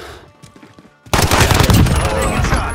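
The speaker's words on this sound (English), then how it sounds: "Oh, I hear gunshots." Quiet background, then a sudden burst of rapid gunfire erupts and continues loudly with overlapping shots, in the video game Call of Duty: Warzone (Cold War).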